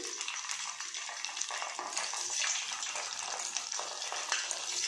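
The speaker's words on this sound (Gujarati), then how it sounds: "હવે આપણે તેની અંદર બાટીને તળવા માટે મૂકીશું" A loud, continuous bubbling sizzle of bati dough balls deep frying in hot oil, steady and close throughout.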